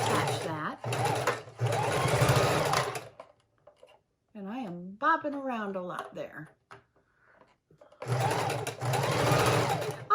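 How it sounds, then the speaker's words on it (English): A sewing machine stitches a pocket onto junk journal pages on a folding card table, running in loud bursts at the start and end with a pause in between where a person speaks. "when I'm using the sewing machine on this folding card table"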